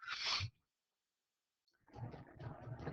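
One short, close sneeze bursts out at the start, then silence before a voice begins speaking.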